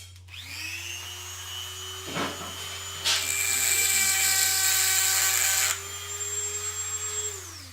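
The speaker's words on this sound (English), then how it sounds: "Gotta sharpen this tap." A power tool in a workshop spins up with a steady high whine, then grinds loudly for a few seconds while a tap is sharpened, before easing back to the plain whine over a low electrical hum.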